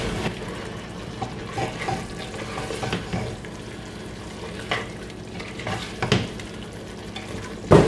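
Boiled eggs being stirred into sizzling biryani masala in a pan, with a steady frying hiss and repeated scraping, clinking stirs throughout, a louder knock near the end.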